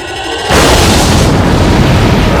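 A starship explosion from the film Star Trek VI: The Undiscovered Country erupts suddenly as a loud, sustained roaring boom that fills the clip, following a brief moment of quieter sound.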